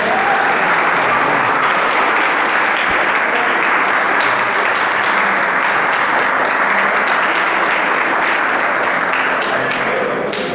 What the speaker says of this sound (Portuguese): Pode glorificar a Deus com as suas palmas